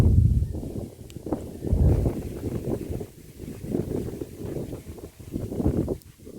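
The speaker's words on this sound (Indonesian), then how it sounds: "Tambah kencang kawan, anginnya bertambah kencang." Strong wind gusting at the Klinterejo Majapahit site, buffeting the microphone in heavy low rumbling waves that rise and fade every second or two.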